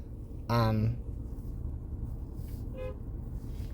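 A car backing out of a spot gives one firm honk of its horn, followed seconds later by a fainter second toot, heard nearby from inside another car over a low engine hum.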